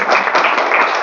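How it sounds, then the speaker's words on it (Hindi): Loud, dense clapping from a seminar audience on an MSME scheme for traders, a continuous burst of many hands close by with no talking over it. "तो एक बार जोरदार तालियां बजा दीजिए आप ही"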